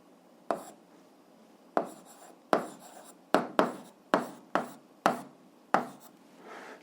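Chalk or pen taps and scratches sharply on a board while an algebra exercise is written out, with a dozen separate strokes in an irregular rhythm, close and fairly quiet, with no talking.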